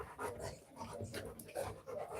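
A dog in a pet video game pants in quick rhythmic huffs, close and fairly loud, repeating steadily with no voices.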